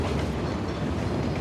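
A train rumbles along in the video game Uncharted: The Lost Legacy, a dense, steady, close roar of rolling noise filling the short moment.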